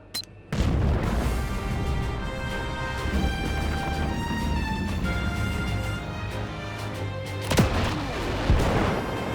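Weapon blast from an Ultraman Blazar episode: a sudden loud boom opens, followed by a sustained roaring, rumbling energy discharge over a ringing tonal hum, with a second sharp burst near the end.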